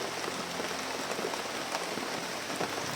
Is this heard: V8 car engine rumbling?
no